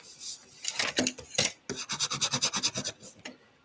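Scissors trim a recycled paper envelope with quick, dry scratching snips and rasping strokes, close and fairly quiet, in an irregular rhythm.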